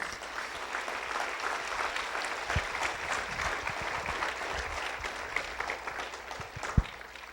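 Congregation applauding during a Spanish-language church sermon, a steady wash of clapping hands sustained throughout with a couple of sharper claps standing out near the end.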